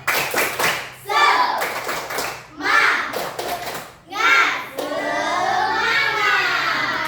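Schoolchildren in a classroom perform a tepuk semangat clapping chant, their voices rising in bursts of rhythmic sung counting punctuated by quick hand claps, ending in a sustained group shout.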